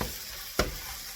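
Onions, mushrooms and sun-dried tomato sautéing in a pan, a soft steady sizzle broken by one sharp tap or scrape partway through, close and brief.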